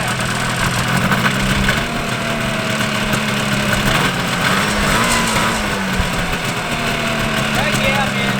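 A 1974 John Deere 400JD vintage snowmobile engine idles steadily and close by with a droning mid-low hum, its carburetor being held open, while someone talks over it.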